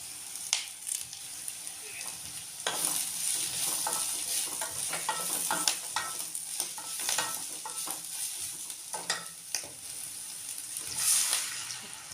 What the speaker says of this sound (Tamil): நல்லா கிளறி விட்டுக்கிட்டே இருக்கணும்